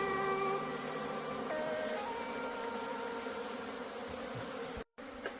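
A swarm of native honeybees being shaken into a hive box at a house, giving a dense, continuous droning buzz close by with wavering pitch, followed by a brief knock and a cutout near the end.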